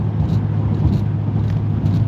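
A car cruising on a highway at about 75, a steady low engine and road rumble heard from inside the cabin, continuous and even with no talking.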